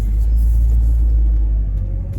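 A VW Golf MK3 cruises through modern traffic, its engine giving a steady, close, heavy low rumble that holds even for the whole stretch and eases slightly near the end.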